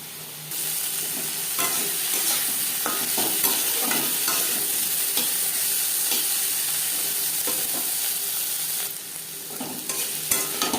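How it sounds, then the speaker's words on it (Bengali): Prawns fry in hot oil in a pan with sliced onion and slit green chillies, giving a loud continuous sizzle broken by repeated scraping stirs and a short lull near the end, with no talking. "মাছ হালকা করে ভেজে নিয়েছি, একটা পাত্রে উঠিয়ে নেব।"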